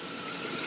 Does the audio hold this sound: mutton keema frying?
no